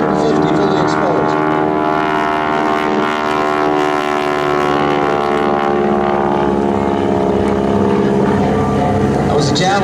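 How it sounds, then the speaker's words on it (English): Propeller biplane's engine drones steadily and loudly as it rolls and loops during a wing-walking act at the 2011 Culpeper Air Fest, with an announcer talking over it. "rolling the airplane, looping the airplane with Chuck Tippett standing between the wings"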